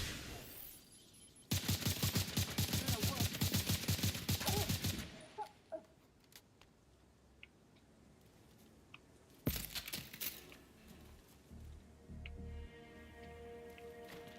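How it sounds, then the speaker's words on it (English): A grenade launcher in a video game fires a fast, loud volley of sharp repeated shots for several seconds, then a quieter pause before another burst of blasts and debris-like crackling. "Launching grenade!"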